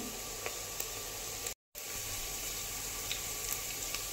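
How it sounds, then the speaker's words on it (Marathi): Onions fry steadily in a pan for Marathi-style chicken curry, a dense continuous sizzle with faint pops and crackles, close and even, broken by one brief dropout. "आता आपल्याला इथे अजून 4 ते 5 मिनिटं लागू शकतात कांदा भाजण्यासाठी"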